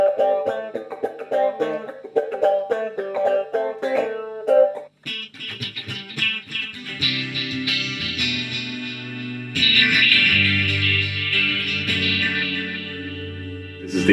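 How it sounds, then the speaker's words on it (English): A Zoom 505 guitar pedal set to a quacky, duck-like filter effect: choppy picked guitar notes give way to swelling, distorted sustained chords, loud and close with no talking. "This is the quacky duck thing."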